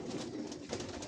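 Pigeons from a fancier's loft coo softly in a short burst, low murmuring calls layered close together with a busy background hum.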